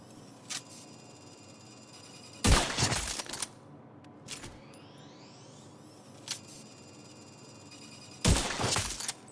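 Sniper rifle shots ring out in The Division 2, with two heavy, loud gunshot bursts several seconds apart, sharp smaller clicks and impacts in between, and a rising whine after the first shot.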